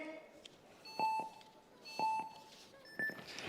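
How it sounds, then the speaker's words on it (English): Three evenly spaced electronic start buzzer beeps at a speed climbing final in Rome, one per second, the last one higher in pitch, ringing out over faint background chatter. "We wait for the buzzers."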